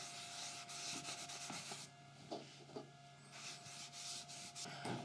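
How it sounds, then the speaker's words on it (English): Furniture wax is rubbed by hand onto a table saw fence, a soft, close scrubbing in uneven strokes with brief pauses, faint and without talk. "Now to the fence, I'm just going to apply a bit of furniture wax."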